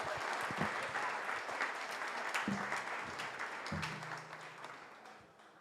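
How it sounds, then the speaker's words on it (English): Steady audience applause at a live neuroscience talk show, dense clapping that holds at a moderate level and slowly fades toward the end, with faint low tones underneath and no speech. "Round of applause one more time."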